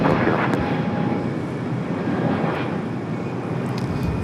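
A United Airbus A321neo jet at LAX roars loud and close, a dense, steady engine noise that eases slightly as it passes, with no talk.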